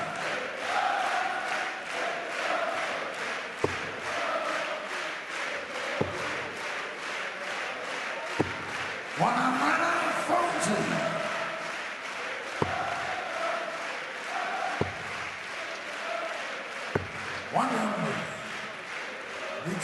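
A darts crowd at a sellout session of the German Darts Masters, cheering and chanting in a steady distant roar beneath a commentator's voice, with occasional sharp thuds of darts hitting the board.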